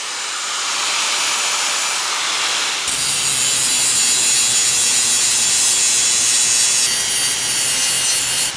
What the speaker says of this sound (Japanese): ある程度機械で削ります。